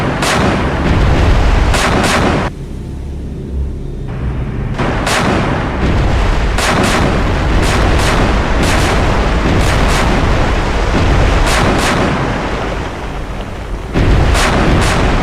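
VLS missile launches from a submarine in the naval video game Cold Waters: heavy repeated booming blasts in rapid succession, loud and close, with a roaring rumble between shots.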